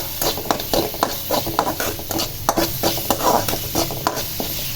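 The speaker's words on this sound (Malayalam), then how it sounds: "എന്നിട്ട് നന്നായിട്ട് അതിൻ്റെ പച്ചമണം മാറുന്നത് വരെ നമുക്കൊന്ന് ഇളക്കി കൊടുക്കാം." Crushed garlic and ginger frying with onions in a pan, a constant close sizzle broken by frequent clinking, scraping strokes of a spoon as the mixture is stirred, with no talking.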